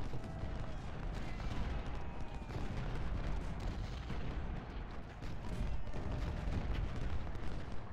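Continuous rumbling artillery fire on an Ultimate General: Civil War battlefield, with distant cannon booms and crackling volleys rolling steadily under faint ambient noise.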